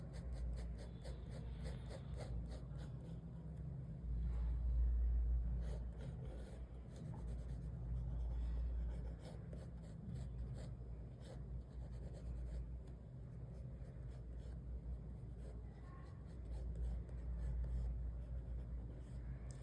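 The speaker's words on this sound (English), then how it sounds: "We'll start with drawing just one of the eyes." Pencil scratching across paper while drawing an eye, a soft continuous rubbing and scraping with repeated short strokes, faint and close under a steady low background hum.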